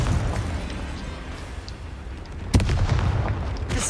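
A Confringo spell explodes in Hogwarts Legacy combat, a deep booming blast that rises out of a dense rumbling din of battle, with a sharp impact near the middle and rolling low noise around it.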